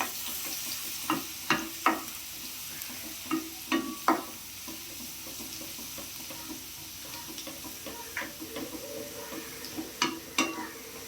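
Grated garlic dropped into hot oil for homemade wheat noodles, giving a steady close sizzle broken by repeated short scraping stirs, alone without talk.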